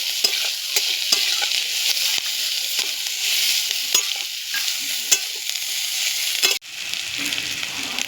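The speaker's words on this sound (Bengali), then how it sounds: "পেঁয়াজটা একটু ভেজে নেব।" Chopped onions sizzle and fry steadily in a pan with cumin seeds and bay leaves, a close, continuous crackle broken by scraping stirs, with a brief quieter moment near the end.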